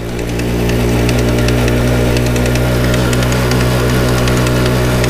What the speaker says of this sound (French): c'est un bruit qui me rassure pas du tout puisque ça vient du moteur